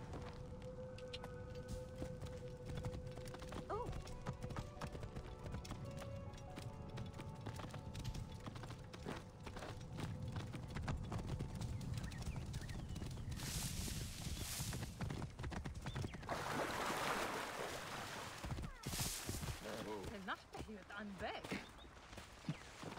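Horse hooves clip-clop in a quick steady gallop in Assassin's Creed Origins, beneath game sounds and a voice talking, faint and somewhat distant.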